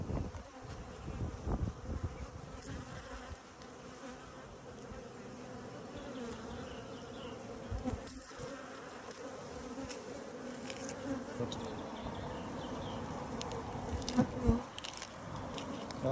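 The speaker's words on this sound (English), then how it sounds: "Oh, look at this bee!" Honeybees swarm around a colony being removed from a structure, their steady, dense buzzing continuing throughout with occasional closer passes and faint handling noises.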